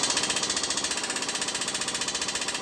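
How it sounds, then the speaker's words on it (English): An impact wrench hammers on a strut nut of a Ford Expedition during suspension work, a loud continuous rapid rattling buzz with an even pulsing rhythm, close up and unbroken. "I'm gonna use the impact, bust this nut off."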